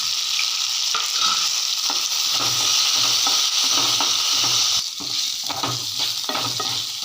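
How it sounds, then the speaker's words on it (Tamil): Onions sautéing in oil with salt, a continuous loud close sizzle with regular scraping and stirring strokes in the pan, no voices. "எண்ணெயிலேயே வெங்காயம் போட்டதெல்லாம் உதிரி உதிரியாக பிரிஞ்சு வர்ற அளவுக்கு நல்லா வதங்கிருச்சு"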